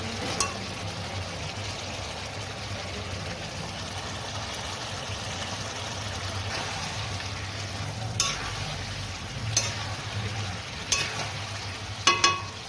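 Chicken meat frying with spice masala in a pan, a soft continuous sizzle under a low hum, with a few sharp scrapes or clinks of a spoon near the end, close but quiet, no talking.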